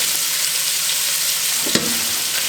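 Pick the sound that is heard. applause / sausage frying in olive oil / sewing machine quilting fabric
sausage frying in olive oil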